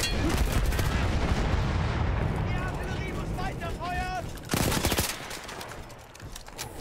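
Gunfire in the Battlefield 1 single-player campaign, heavy volleys of shots and explosive bursts, loud and near, with a sharp blast near the end amid battle noise and talking.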